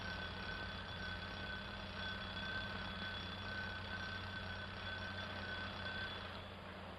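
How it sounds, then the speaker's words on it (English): An old alarm clock rings in a steady, unbroken metallic clatter for several seconds, fairly loud and alone with no voices. "That's my little old alarm clock."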